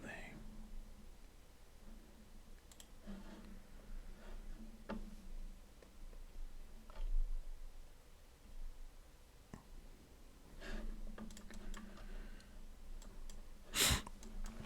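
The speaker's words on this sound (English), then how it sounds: "I keep clicking the wrong thing" Computer mouse clicks tick out sparsely and faintly during a futures trading session, with soft muffled talk and breathing underneath and a sharper click burst near the end.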